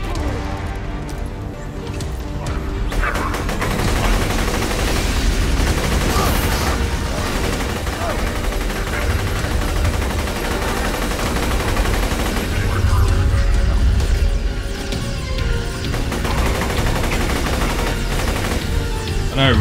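Rapid gunfire from weapons in the video game Borderlands 2, with dense bursts and machine-gun rattles running nearly continuously, loud and up close, with someone talking over parts of it.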